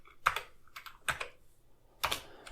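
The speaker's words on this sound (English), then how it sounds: "And if I type system" Keys clack on a computer keyboard as a command is typed on an Amiga running MS-DOS emulation: four short clustered bursts of keystrokes, close and crisp, with quiet gaps between and no talking.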